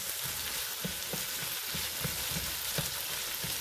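Tomatoes sautéing in a pan sizzle steadily and close up, with soft stirring scrapes breaking through the frying hiss every few moments and no voices.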